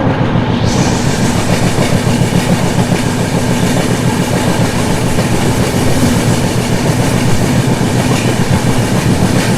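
Godavari SF Express on the Lingampalli–Visakhapatnam run, heard as a steady, loud rumble of carriages rolling over rails with continuous clickety-clack, close and unbroken throughout.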